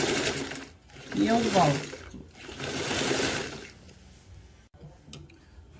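A sewing machine stitches rug or cushion work in twine and silk thread, running in two bursts of steady mechanical whirring with a pause between, while someone talks over it.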